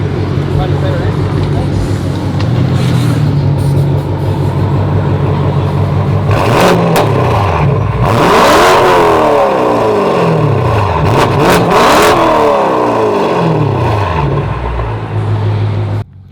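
A repaired car engine revs up and down in rising and falling sweeps, loud and close, with voices talking over parts of it.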